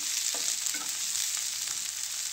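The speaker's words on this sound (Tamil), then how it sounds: "இதில் 2 பச்சை மிளகாய் சேர்த்துடலாம். சேர்த்துட்டு இதையும் நம்ம நல்லா வதக்கிடலாம்." Chopped onions and green chillies sauté in a hot pan, a constant close sizzle with a couple of quick spatula stirs early on.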